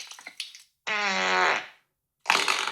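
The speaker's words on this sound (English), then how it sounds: "any app that includes fart sounds and also diarrhea sounds" Fart sound effects from the Splice editing app: a short sputtering burst, then a long buzzy tonal fart, and a final wet spluttering one after a pause, close and clear with no voices.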